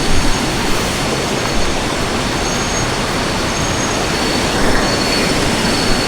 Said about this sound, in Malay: So memang bunyi bising sikit lah bunyi air.